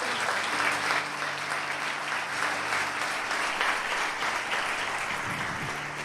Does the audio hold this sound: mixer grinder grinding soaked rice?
no